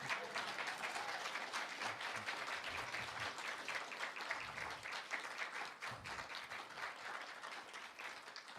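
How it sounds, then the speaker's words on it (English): Audience clapping at a Juneteenth spoken-word performance, a steady sustained wash of many hands, moderately distant and unbroken for the whole stretch with no voice over it. "Y'all can clap now."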